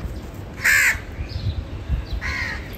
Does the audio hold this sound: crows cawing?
yes